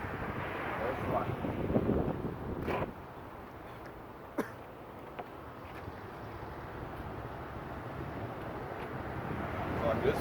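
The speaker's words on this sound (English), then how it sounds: "Like this Oklahoma wind is no joke." Strong Oklahoma wind buffets an outdoor microphone with continuous low rumbling gusts and a few sharp knocks, fairly loud and steady throughout.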